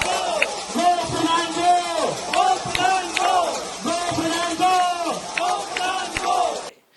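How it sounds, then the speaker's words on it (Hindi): A large crowd of students chants slogans in loud, rhythmic unison at Jantar Mantar, the shouted phrases repeating in steady cycles with clattering accents that may be spoons beating plates, before cutting off abruptly. "हाथों में ताली थाली लेकर के, चम्मच थाली जो था सब बजाना शुरू कर दिया और नारे लगाने शुरू कर दिए"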